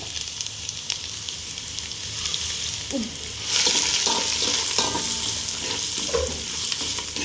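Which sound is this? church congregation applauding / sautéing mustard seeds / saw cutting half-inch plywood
sautéing mustard seeds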